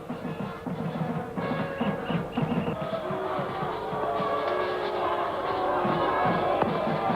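A cricket crowd at a 1996 Pakistan vs Sri Lanka league match in Nairobi keeps up a steady, dense roar of cheering and shouting, growing a little louder and more sustained toward the end.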